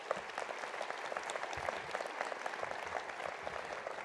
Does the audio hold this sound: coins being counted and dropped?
no